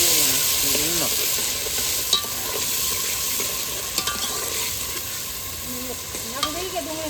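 Onions and salt stirred and frying in a pan for a masala fish curry, a loud continuous sizzle with scraping stir strokes and occasional clinks, close by.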